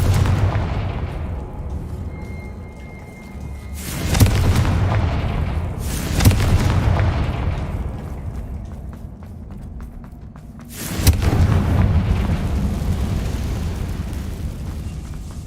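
Confringo blasting spell in the Hogwarts Legacy game: three heavy booming explosions, each a sharp crack followed by a long rumbling decay, spaced a few seconds apart.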